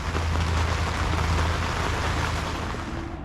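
Rain falling steadily over a garden beside a plumeria greenhouse on a wet winter day, a dense continuous hiss of drops, loud and close, easing slightly toward the end.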